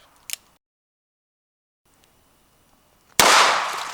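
A single loud revolver shot fired into dirt bursts out near the end, sharp and close, with a dirt-scattering wash trailing after. A faint pop comes just before a stretch of near silence.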